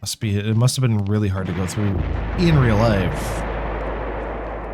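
Mortar shelling and gunfire in a war scene from the Eternal Darkness video game, a low rumbling barrage under someone speaking, continuing as a steady heavy roar once he stops.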